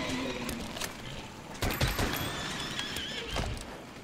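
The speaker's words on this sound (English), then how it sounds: "Fun fact, we noticed that Shamos sounds like a horse if you kill it." A Shamos monster dying in Monster Hunter World gives a horse-like whinny, a short high cry over busy battle noise and game ambience at moderate loudness.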